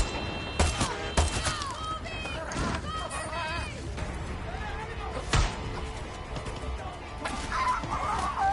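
A rooster in the video game Far Cry 6 clucks and squawks in short repeated bursts, with sharp impacts and engine noise around it and people talking over the top.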